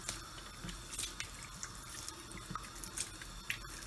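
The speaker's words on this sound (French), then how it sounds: "Je mets de l'eau, j'essaye de mettre sur toute la semoule" Water is poured over couscous semolina in a Moroccan kitchen, a faint close trickle and splash running steadily for a few seconds with small drips and pattering.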